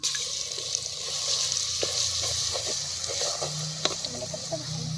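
Garlic paste hitting hot oil in a cooking pot for handi chicken, giving a steady close sizzle with scattered pops and stirring scrapes, moderately loud and without speech.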